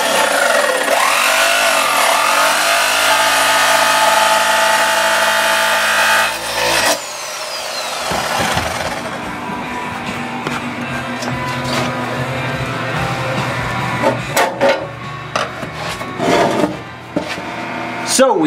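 Loud power tool cutting a hole in a metal electric brewery controller chassis, a steady harsh grinding whine for several seconds that breaks into choppy, intermittent rasping bursts.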